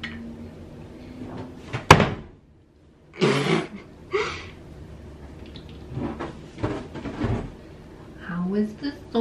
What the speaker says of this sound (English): So let's get these out and we'll get the door off.